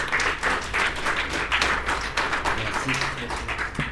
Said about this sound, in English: Warm round of applause, please.